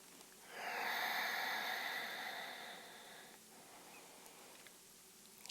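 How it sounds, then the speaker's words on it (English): A long, breathy exhale during a yoga side stretch, a soft airy rush that swells, holds for a few seconds and slowly fades, close and quiet, with no talking. "Breathing in again."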